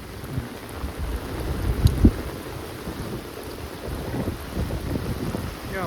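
During a downpour in Botad village after sowing, low thunder rolls under steady rain. A sharper crack comes around two seconds in, then a longer, quieter rumble, with no talking.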